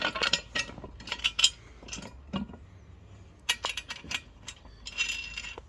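Metal 3/8 by 2-inch bolts and washers clink and tap in short irregular bursts as they are fitted one by one during furniture assembly on a table, small close metallic clicks with quiet pauses between.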